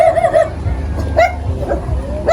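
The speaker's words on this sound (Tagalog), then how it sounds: "Ay, maraming aso." Several dogs bark, yip and whimper close by in a neighbour's yard, a loud overlapping chorus of sharp barks and whiny cries repeating throughout.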